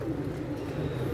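Pigeons coo in a soft, low, continuous murmur, close by, in one brief, steady stretch.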